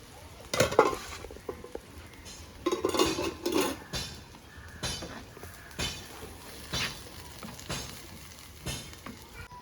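Onions sauté in a pan while a spoon stirs them, sending repeated scraping strokes and metallic clinks against the pan over a soft, steady sizzle.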